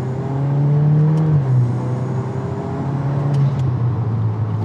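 A VW Golf R MK8 fitted with an open air intake revs up loudly and close by, its engine note climbing steadily, easing back, then holding a sustained higher drone to the end with no talking.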